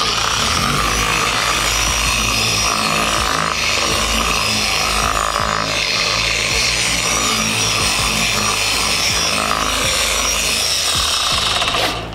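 A car paint polishing machine runs steadily at its slowest speed during show-car paint restoration, giving a continuous, fairly loud whirring and rubbing drone with small scuffs over the whole stretch, with no talk.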